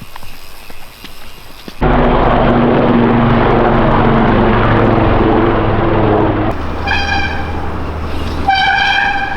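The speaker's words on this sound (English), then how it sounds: "Was that an Apache helicopter?" An Apache helicopter suddenly roars in low and loud overhead, its deep rumble holding steady; a high tonal whine rises over it near the end.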